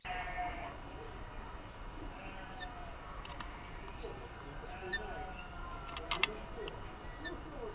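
A young owlet at a zoo gives repeated short, high, rasping calls, three or four spaced a couple of seconds apart over a steady low background hum.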